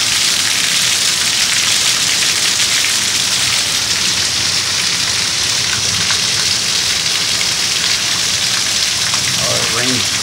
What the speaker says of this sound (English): Several buckets of rain have followed in the last 20 minutes.